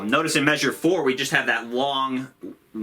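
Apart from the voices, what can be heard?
None of the usual background noises is heard.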